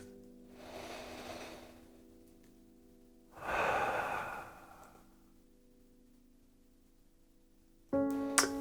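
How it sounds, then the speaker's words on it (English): Slow deep breaths during a guided breathing moment, two long audible inhales and exhales close to the microphone, with a steady background tone underneath and a brief sound at the end. "Let's take a deep breath together."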